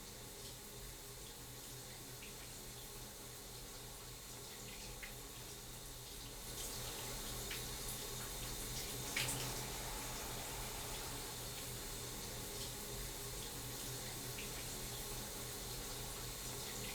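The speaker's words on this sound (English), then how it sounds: "I'm taking a shower" A shower running in a home bathroom, a steady hiss of falling water that grows slightly louder partway through and continues evenly, quiet and without talk.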